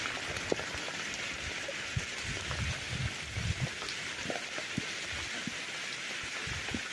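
Heavy rain pours down in a dense, steady hiss, with scattered drips and patters striking nearby surfaces.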